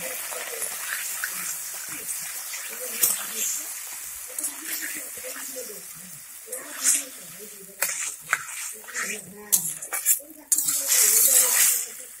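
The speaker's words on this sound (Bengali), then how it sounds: "এখন মা জল দিয়ে যাতে সবজিগুলো সেদ্ধ হয় সেই জন্য" Water splashes into vegetables cooking in a pot for a winter curry, bringing a sizzle, then bubbling and stirring clatter that swell toward the end, while a voice talks over it.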